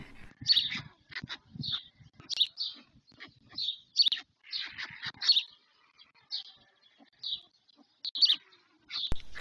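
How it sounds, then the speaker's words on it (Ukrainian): Repeated high, squeaky chirping calls from several white stork chicks close by in their nest, in uneven bursts with short pauses between. "Почалась спека, батьки постійно носять пташенятам воду, от і Грицько прилетів черговою порцією."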